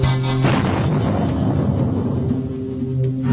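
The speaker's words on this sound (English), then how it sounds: "The airburst, where the missile detonates just 30 feet above the ground." A rocket fitted with an airburst fuse detonates about 30 feet above the ground during a missile test at White Sands, giving a loud, sustained booming rumble that rolls on and fades slowly.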